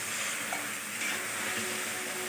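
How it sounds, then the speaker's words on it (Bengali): Spice paste sizzles and is stirred steadily in hot oil for a Bengali curry, a dense continuous frying hiss with faint scraping of the spoon, close and alone with no voices. "যতক্ষণ তেল ছাড়বে না ততক্ষণ আমি মশলা কষাতে থাকবো, তাইলে পুড়ে যাবে না।"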